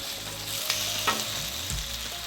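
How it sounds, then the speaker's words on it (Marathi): Carrots tipped into a pan of mixed vegetables for a traditional Bhogi bhaji, frying with a steady close sizzle and a couple of brief stirring scrapes and clatters. "त्यावर आता आपण गाजर टाकूया"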